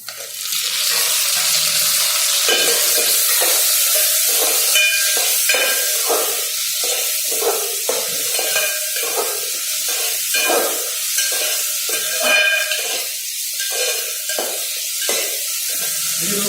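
Tomatoes hit onions already fried in homemade desi ghee for dal khichdi, giving a steady broad sizzle with repeated scraping stirs throughout, close and fairly loud with no talking.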